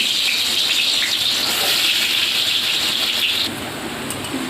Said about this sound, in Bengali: আলুটা আমি ভেজে নেবো প্রথমে